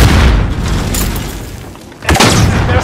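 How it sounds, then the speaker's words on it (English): A video game precision airstrike hits with heavy booming blasts, one continuous rumble and then a sharp fresh explosion near the end, loud and close. "Allied precision airstrike incoming"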